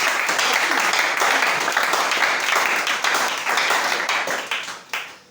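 Congregation in a church breaks into sustained, dense applause, loud and steady for several seconds before thinning out and fading toward the end.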